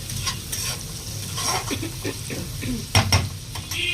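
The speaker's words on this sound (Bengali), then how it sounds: "তারপর এটা একটু নাড়বো। তারপরে দেখো নাড়াচাড়া হচ্ছে।" Chopped onions being stirred in a frying pan, a soft sizzle under repeated spoon scrapes and light clinks against the pan, close and fairly loud.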